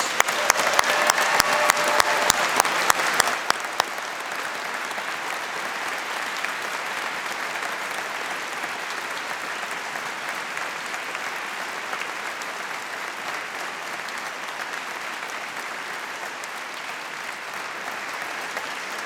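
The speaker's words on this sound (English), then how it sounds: "let's give the class of 2019 a big collective round of applause" A graduation ceremony audience at Strathclyde Business School applauds the class of 2019, with a few seconds of loud, crisp clapping close by that then settles into a softer, steady roar of applause that lasts a long time.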